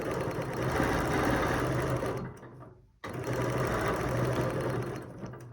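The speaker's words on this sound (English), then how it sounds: "I'm going to do a little bit of a stitch back, put my ruler in position, and then come the other way." A Rocket quilting sewing machine stitches along a ruler, its fast steady needle rhythm running close and loud, stopping for a moment with a brief pause before resuming at the same pace.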